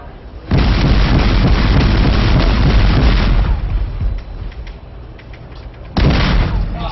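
A US Navy ship's guns firing during a firing run, heard as loud, sustained rumbling blasts with wind buffeting. The roar fades after a few seconds, then another heavy burst erupts near the end.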